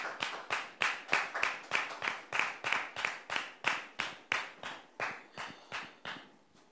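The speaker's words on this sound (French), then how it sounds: "Public, merci de le recevoir sous vos applaudissements" A studio audience on a French talk show claps steadily in unison to welcome a guest, with sharp, evenly spaced claps that hold a firm rhythm before gradually softening.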